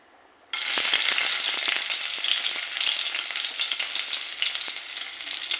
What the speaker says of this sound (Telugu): ముందు వెల్లుల్లిపాయలు వేస్తున్నానండి.